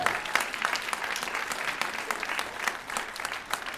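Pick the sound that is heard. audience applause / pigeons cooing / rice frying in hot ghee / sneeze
audience applause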